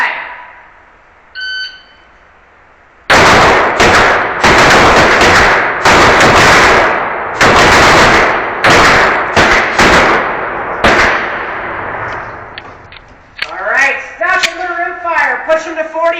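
Glock pistols firing at an indoor shooting match, a burst of loud, sharp close reports in quick irregular succession after a short beep, echoing in the range, followed by people talking.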